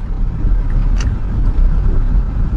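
A car pulling away uphill on a road, clutch easing up as gas is applied, gives a close, loud, steady low engine rumble with a brief higher whine near the start and no talking.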